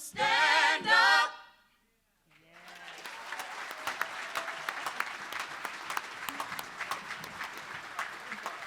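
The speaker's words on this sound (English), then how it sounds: "Can we give them another round of applause?" Audience applause for a singing group at a Martin Luther King Jr. community leaders celebration, a steady, sustained clapping from a large crowd after a brief burst of singing and a short pause.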